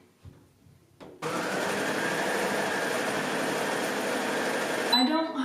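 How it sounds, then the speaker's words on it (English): A sewing machine stitches gingham fabric with white thread, a steady, close mechanical whirring hum that runs without a break for about four seconds after a few soft handling sounds. "now we can just start sewing"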